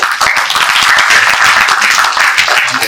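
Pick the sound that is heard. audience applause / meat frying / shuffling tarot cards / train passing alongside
audience applause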